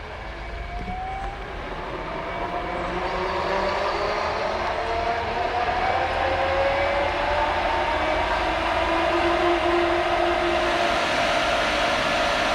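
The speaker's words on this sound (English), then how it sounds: "we'll turn on the breaker and then turn the power onto the pump and get her going" A Pureline EasyFit pool pump starting up and running, a steady motor whine with rising tonal components that builds over the first few seconds, then holds a loud continuous hum and whir.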